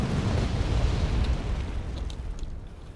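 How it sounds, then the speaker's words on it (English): An Su-7BM bombing run in the video game Wargame AirLand Battle produces a heavy, rumbling explosion that swells at once and then slowly rolls off over a few seconds, with faint clicks late in the decay. "Su-7BM, another bombing run"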